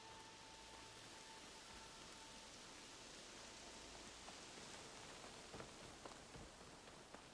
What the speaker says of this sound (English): I think this might be one of the first times we've ever seen rain here in the game.